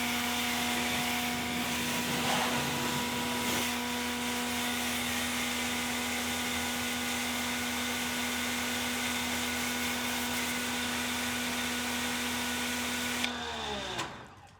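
A Ryobi 1.8 GPM automotive high-flow pressure washer fires a 15 degree tip in a loud, steady hiss over a constant pump hum that runs unbroken, then cuts off sharply near the end.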